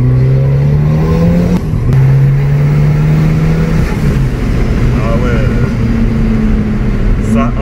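Abarth 695 Limited edition Stage 3 engine pulling hard under acceleration, a steady loud drone heard from inside the car, rising in pitch through gear changes with a brief dip around each shift.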